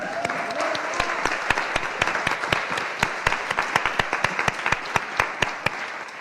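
Applause rises at a Paris cultural talk event, with a few loud, distinct claps cutting sharply through a steady crowd wash over several seconds.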